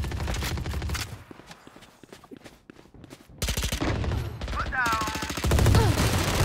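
Gunfire in a team deathmatch shooter video game, with rapid bursts and single shots, some close and loud, others lighter, mixed with footsteps and in-game effects while players talk.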